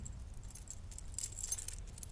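Keys jangle softly while being handled and gripped alongside a Tactikey personal protection tool, with light metallic clinks scattered through and a brighter cluster near the middle, set against low background hum.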